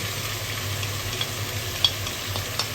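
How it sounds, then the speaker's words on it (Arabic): Meat frying in a pan as onion, pepper and garlic go in, a steady sizzle with low rumble beneath and a few soft scraping clicks of stirring, fairly close and without voices. "هننزل بقى بالبصل والفلفل والثوم"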